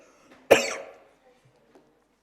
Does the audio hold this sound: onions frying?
no